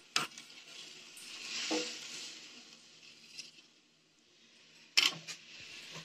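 A spoon stirs sugar into water in a pot on the stove for a sweet, quiet scraping and swishing with a soft sizzle, plus a few sharp metallic clinks near the start and end.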